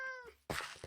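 A cat in the Minecraft video game gives a short meow, followed by a brief softer rustling burst, quiet and close.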